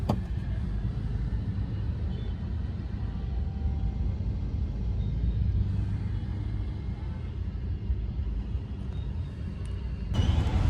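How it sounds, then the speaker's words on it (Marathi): Road traffic jam gives a steady low rumble of idling and slowly moving engines close by, continuous and dense, swelling slightly near the end. "खूप जास्त ट्रॅफिक आहे मित्रांनो."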